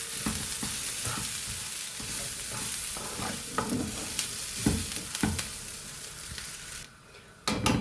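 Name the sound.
stirring and frying chicken masala in a pan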